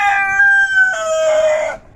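A large hen held up close lets out a loud, drawn-out two-part call, sustained and almost crow-like, before falling silent.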